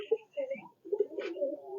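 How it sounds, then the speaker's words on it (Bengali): Rajshahi giribaj pigeons, a local Bengali breed, coo at a small farm in Durgapur Bazar, Rajshahi, a few short throaty coos close by in quick succession. "দেশি গিরিবাজ, রাজশাহী গিরিবাজ"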